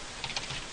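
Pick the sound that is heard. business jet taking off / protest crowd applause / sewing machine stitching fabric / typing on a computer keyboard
typing on a computer keyboard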